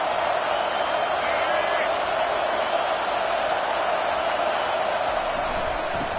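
A stadium crowd roars in the NCAA 25 college football video game, a dense steady wash of crowd noise sustained throughout, with commentary voices over it.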